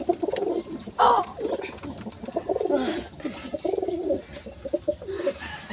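Pigeons coo close by in a series of throaty, rolling calls, with a few brief chirps in between and a short burst of noise near the start.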